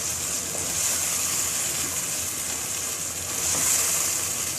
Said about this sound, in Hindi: सब मसाले इसमें डाल दें और अच्छी तरह भूनें।